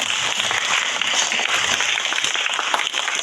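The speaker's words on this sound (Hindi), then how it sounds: "बच्चों तालियां बजाने में कंजूसी नहीं" Children at a school storytelling event applaud together, producing a steady, dense wash of clapping that holds at an even level throughout, with no talking over it.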